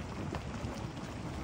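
Heavy rain falling outdoors, a steady, faint, even hiss of drops with no voices over it.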